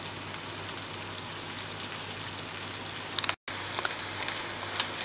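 Eggs and sausage sizzle and crackle in a hot frying pan, a steady hiss of frying with a brief dropout near the end.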